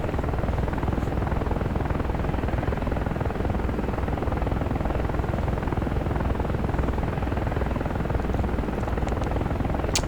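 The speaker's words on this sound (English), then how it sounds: "the helicopter isn't behaving properly" A helicopter in the DCS World flight simulator, its rotor and engine giving a loud, continuous, dense thrum that holds steady throughout, with no voices over it.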